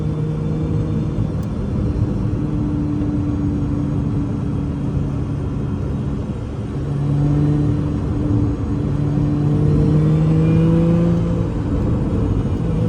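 A Lotus Emira sports car drives on a hilly race track, its engine a close, steady drone whose pitch rises and falls with throttle changes, swelling louder partway through. No one speaks.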